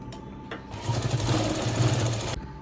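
A sewing machine runs in a steady, close whir for about two seconds, stitching a cloth bag, with soft handling noises before it starts.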